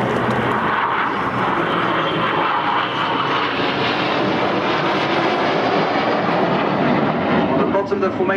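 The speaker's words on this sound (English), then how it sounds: "So now in Vixen formation from your right hand side, some red, white and blue as our own tribute to the personnel of Bomber Command." Red Arrows jets flying past in Vixen formation at the Farnborough 2012 air show, a loud continuous jet roar that stays steady for the whole stretch, with a commentator talking over it.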